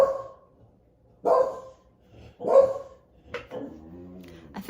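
A dog barks in three sharp, close bursts spaced about a second apart, followed by a short yip or whine. There is no talking.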